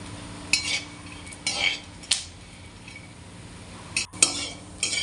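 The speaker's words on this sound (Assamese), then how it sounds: "এয়া তেল গৰম হোৱাৰ পিছত এয়া বাদাম দি ল'লোঁ" Peanuts stirred in hot oil in a wok, with a spatula scraping and clinking against the pan in sharp intermittent bursts over a faint steady sizzle.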